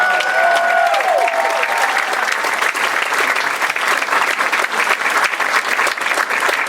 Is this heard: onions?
no